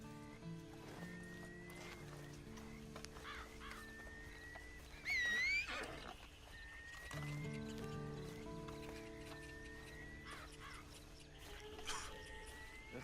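Horse neighing and whinnying in the Red Dead Redemption Online video game, a loud whinny standing out midway over a bed of clip-clopping hooves and ambient game sounds.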